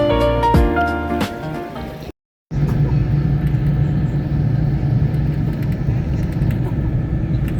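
Inside a bus travelling along highway BR 262, a steady low engine and road rumble carries on after a short cut, preceded by a few seconds of tonal, music-like sound.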